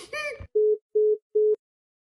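Telephone tones after a call is hung up: a brief voice, then three short, steady, evenly spaced beeps sounding alone and fairly loud.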